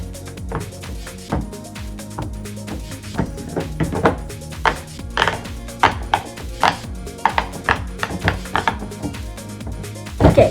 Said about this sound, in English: So here we have this pineapple puppet. It has pineapple texture.